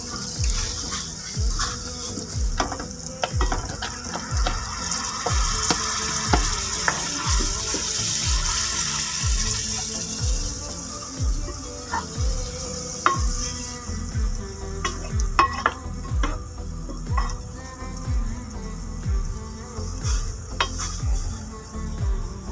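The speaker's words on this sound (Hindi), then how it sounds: "दाल को मैंने अच्छी तरह से भून लिया है।" Soaked urad dal fried in masala in a pan, a steady sizzle under a regular rhythm of spoon scrapes and stirs, close and continuous with occasional clinks.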